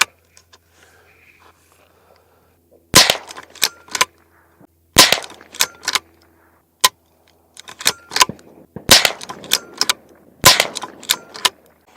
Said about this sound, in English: We're going to start with a baseline of just the muzzle brake, the Lantac Dragon muzzle brake, and no suppressor.